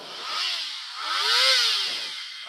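A 250cc motorcycle engine revving twice, each throttle blip rising and falling in a loud, buzzy snarl at close range, without speech.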